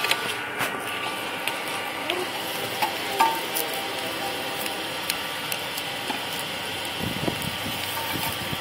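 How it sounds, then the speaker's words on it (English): A hot steel knife quenched in oil beside a brick forge gives a steady, crackling sizzle with scattered pops and bubbling for several seconds, fairly close and continuous. "The steel's starting to boil, or the oil's boiling."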